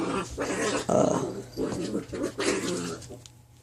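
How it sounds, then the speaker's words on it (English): A pet dog growls and snarls while scuffling with a cat indoors, rough bursts of close growling and yelps under ongoing speech. "I had to get my dog and my cat to stop fighting."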